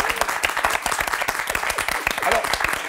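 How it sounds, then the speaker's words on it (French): A studio audience at a televised debate applauds with dense, energetic clapping that stays loud and even throughout, with faint crowd murmur underneath. "on peut les applaudir."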